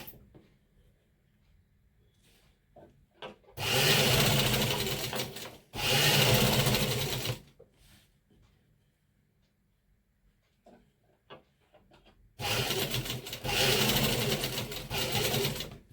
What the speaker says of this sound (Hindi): फिर इस कली को फोल्ड कर लेस की साइड से हम एक पैर की सिलाई लगाते हुए सिल देंगे।